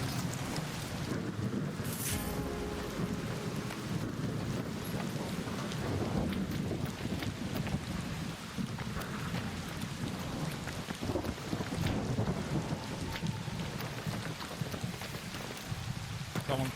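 Steady rain with rumbling thunder across a stormy lightning zone in the video game Arc Raiders, a continuous wash of downpour and low rolls beneath players talking.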